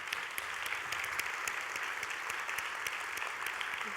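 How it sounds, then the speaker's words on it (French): Audience applause at a Quebec symposium on artificial intelligence, steady dense clapping from a large crowd that fills the room at an even level throughout, with no voices over it. "On peut les applaudir."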